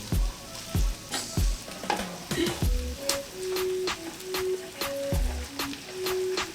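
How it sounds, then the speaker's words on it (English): Fried rice being stirred in a hot pan, sizzling steadily while a utensil scrapes and clacks against the metal in repeated sharp strokes, close and fairly loud with no talking. "Stir all ingredients until equally."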